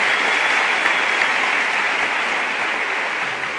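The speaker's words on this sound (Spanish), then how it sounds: "Dale un aplauso ahora sí." An audience claps steadily and loudly at a Spanish-language apostolic and prophetic church forum, a dense, even wash of applause that fills the whole stretch without a break.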